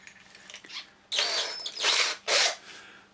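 Cordless drill with a thread tap tightened in its chuck, a faint whir followed by three short, loud bursts of the motor whining and stopping, close by with no talk.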